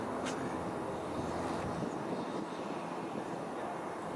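Steady broadband engine roar of an airplane, fairly constant throughout with a rushing, windy quality; no voices.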